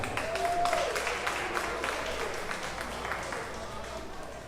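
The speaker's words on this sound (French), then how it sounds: "je vous demanderai de prendre place sous vos applaudissements" Guests at a 60th birthday party applaud while taking their seats, a quiet, distant patter of clapping running steadily under chatter and a speaking voice.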